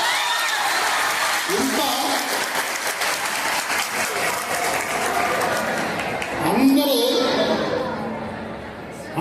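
An audience applauds at a school gathering, a dense sustained clapping that swells and fades, with a voice speaking over it.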